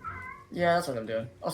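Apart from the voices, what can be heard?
cat meowing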